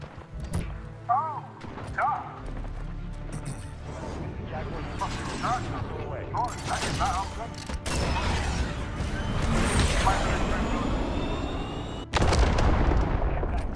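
Gunfire in Call of Duty: Modern Warfare cracks in scattered bursts amid clanking mechanical game sounds and a loud, busy mix, with voices speaking over it.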